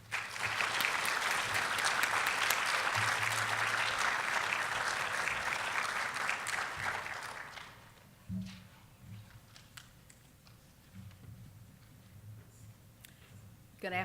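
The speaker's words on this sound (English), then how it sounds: "I hope you give her a very warm round of applause" A large audience at a college Black History program gives a warm, sustained round of applause for the community college president. The clapping fades after about seven seconds, leaving a quiet room with a few faint shuffles and clicks.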